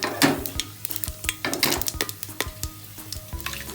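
Cinnamon, cloves and cardamom are stirred in hot coconut oil and ghee for chicken biryani, with quick metal spoon clinks and scrapes against the pot over a light sizzle, up close and without speech.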